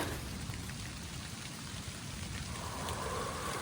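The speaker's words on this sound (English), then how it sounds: "Here comes the rain right now." Rain falls on the Appalachian Trail near Standing Bear, a steady close patter of drops on surfaces forming a continuous wash of sound with no talking.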